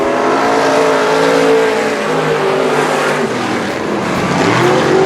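A pack of race cars roars off at the green flag start at a night race, engines loud and sustained with rising revs and overlapping pitches, close and dense throughout.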